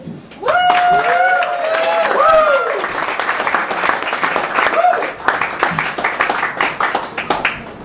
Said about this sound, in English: I want everybody to give a big round of applause for my man, Torres.